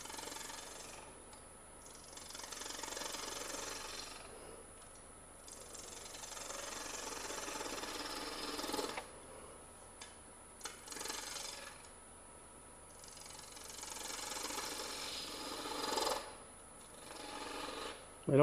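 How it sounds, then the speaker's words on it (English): A detail gouge cuts grooves into wood in repeated faint scraping, rasping strokes, each a few seconds long with short pauses between, close and quiet. "now I can come with my detail gouge and cut my next 2 grooves"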